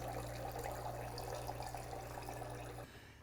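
Water running from the reservoir through the filter into the boiler of a Gaggia Babila espresso machine while priming, a steady gurgling flow over a low pump hum that drops off abruptly near the end.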